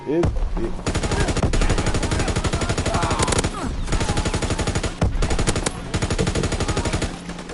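Rapid automatic gun fire in a PS4 video game, long sustained bursts of evenly spaced shots separated by short pauses, loud and close throughout.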